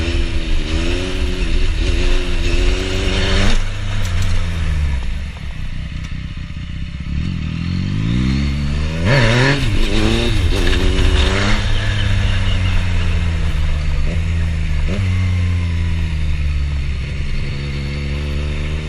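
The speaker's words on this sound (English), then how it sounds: "Do a couple more first gear clutch ups, maybe you can see what the bike is doing." A Yamaha FZ-09 / MT-09 motorcycle doing first-gear clutch-up wheelie practice, its engine loud and close, revving up in repeated surges and dropping back to a rough idle, with clatter between pulls.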